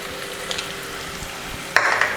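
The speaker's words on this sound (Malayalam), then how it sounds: "നന്നായിട്ട് മിക്സ് ചെയ്ത് വഴറ്റി കൊടുക്കുക." Onions with a little salt sautéing in a pan, a low steady sizzle with faint stirring, then a sharper clink and scrape of the utensil near the end, close by and without talking.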